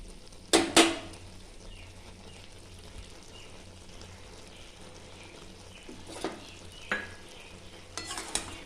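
Shrimp get mixed into cooked taro stolons in a pan, with a couple of sharp utensil clanks at the start, then a low sizzle and occasional scrapes and taps.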